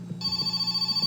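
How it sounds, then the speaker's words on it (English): A telephone rings in the video game My Summer Car, a bright electric bell trill that starts abruptly and holds steady for about a second, close and clear with no talk. "And then the phone rings."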